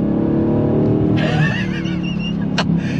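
A Dodge Challenger Scat Pack with a 6.4-liter Hemi V8 rumbles loudly and steadily at close range, with a brief tire-squeal or whine layered over it.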